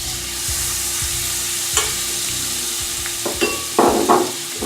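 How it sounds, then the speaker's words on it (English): Garlic added to melted butter in a pan on turned-down heat, giving a steady low sizzle throughout with occasional stirring scrapes and a few louder clinks near the end. "we're going to add our garlic to the melted butter"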